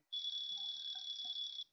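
A single loud, steady electronic beep from an alarm clock lasts about a second and a half, cutting in and out sharply, with no voices.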